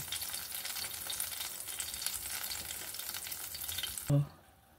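Onions sautéing in a pan for steak give a steady, close frying sizzle with stirring scrapes, then a sharp clank near the end before it drops to quiet.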